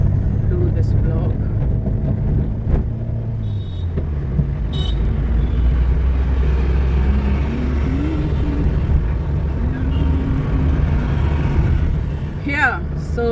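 Inside a car while driving, a low steady engine and road rumble runs throughout under a person talking close to the microphone, with a few brief clicks and a short rising whine near the end.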